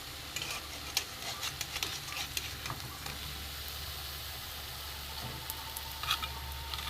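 Papad fries in oil with a soft, continuous sizzle and scattered faint crackles, quiet and even throughout, with no voices.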